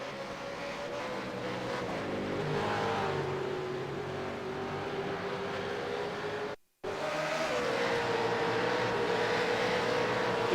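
V8 Supercars race cars roar around Barber Motorsports Park at the Alabama Grand Prix, with one sustained engine drone whose pitch shifts gradually and which cuts out for a moment near the end.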